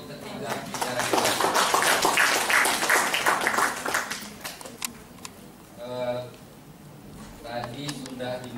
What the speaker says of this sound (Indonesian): Tepuk tangan untuk ketiga bicara kita.